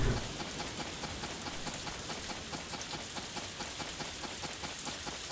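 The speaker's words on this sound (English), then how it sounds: "Oh, and it just started to rain." Steady rain falls in the farming game Harvest Moon A Wonderful Life, a dense, even hiss of drops that holds at a constant level throughout with no talk.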